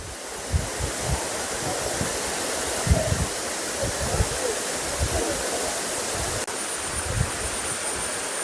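Aruvikkachal waterfall in Kottayam, the district's highest, giving a steady, dense roar of rushing water that stays even and continuous throughout, with occasional faint splashes and no speech.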